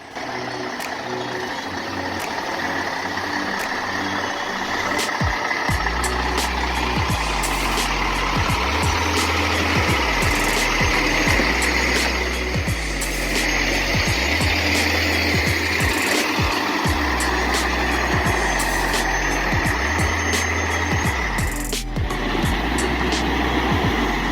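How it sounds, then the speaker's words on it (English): Heavy log truck grinding through a sharp bend onto a road, its engine laboring loudly and steadily with rhythmic low pulses, accompanied by intermittent beeping throughout. "we watch a powerful log truck making its way onto a road with a sharp bend"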